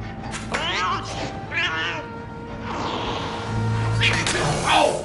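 A cornered cat in the 2006 film The Shaggy Dog lets out a series of loud, drawn-out meows and yowls that rise and fall in pitch, with brief scuffling noises between cries.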